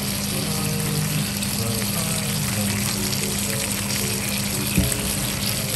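Cooking oil goes into a pan for frying dumplings, heard as a steady, fairly quiet sizzling and liquid hiss with a small knock near the end.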